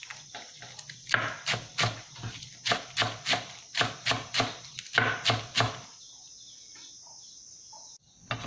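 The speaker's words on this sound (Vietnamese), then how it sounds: "ngò gai thì mình cũng sẽ xắt nhuyễn ra luôn" A knife chops culantro (sawtooth coriander) finely on a cutting board, making a quick, steady series of about twenty sharp close taps before stopping, with a faint high hum underneath.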